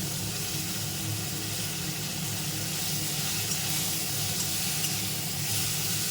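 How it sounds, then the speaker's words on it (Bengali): Cauliflower florets fry in hot oil in a pan, giving a steady, dense sizzle that holds evenly throughout, close and fairly loud, with no talking. "এর মধ্যেই আমি ফুলকপিটা ভেজে নিচ্ছি"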